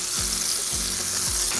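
Salted butter sizzles and crackles steadily as it melts in a hot frying pan, close and continuous, with a few soft scraping strokes repeating.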